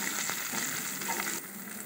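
Onion, ginger and green chilli frying in a pan for spicy kuzhi paniyaram, a steady close sizzle with a few light stirring clicks, no voices.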